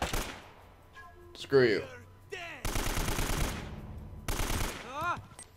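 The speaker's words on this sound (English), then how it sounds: "Wasting all this ammo blind firing." Blind gunfire in Uncharted: Drake's Fortune, sharp bursts of rapid shots in two loud volleys, with someone speaking between them and game voices shouting.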